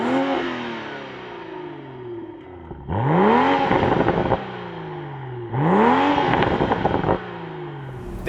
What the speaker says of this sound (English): That B58 is such a smooth sounding engine.